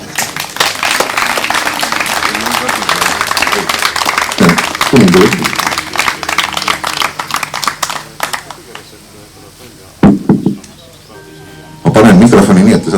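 An audience at a Torgu Kingdom celebration claps in a long sustained round of applause, then thins out, with a brief burst near ten seconds and a fresh loud round at the end.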